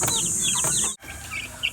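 Young Rhode Island Red heritage chickens at feeding time, out on the ground for the first time, give quick overlapping chirps and peeps nearby, with a brief dropout midway.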